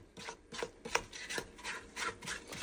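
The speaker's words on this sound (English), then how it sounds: "I'm going to scrape down the sides." A spatula scrapes down the sides of a bowl of pound cake batter, a run of quick rasping strokes repeating steadily, close but fairly soft, with no voices.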